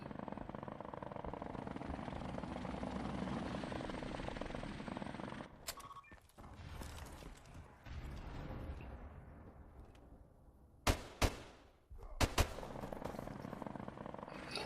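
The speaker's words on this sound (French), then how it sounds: "Hélicoptère ennemi en approche" An enemy helicopter approaches in Modern Warfare Remastered, a steady loud rotor roar that cuts out midway, followed by muffled action noise and a few sharp bursts of gunfire near the end.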